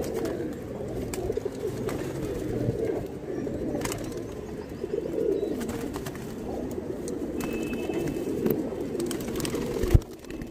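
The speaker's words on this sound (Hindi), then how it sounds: "एक से एक कबूतर इसमें मिलेंगे।" Pigeons in a pigeon shop in Delhi coo softly and repeatedly in low, throaty murmurs, several birds together with faint rustling and flutters around them.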